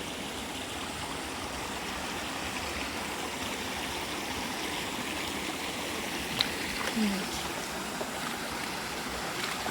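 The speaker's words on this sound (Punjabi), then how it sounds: "ਉਹ ਦੇਖੋ ਸਾਹਮਣੇ ਚੱਲਦਾ ਪਿਆ ਝਰਨਾ" A waterfall pours among rocks, giving a steady, broad rushing roar that stays even throughout, with a brief faint click partway through.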